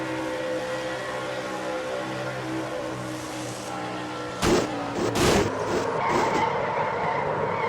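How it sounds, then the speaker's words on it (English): Race truck in a racing video game, engine droning steadily before two sharp bursts of skidding and tire noise midway, then a rougher engine roar as the truck gets going again. "On board Dylan Young's truck."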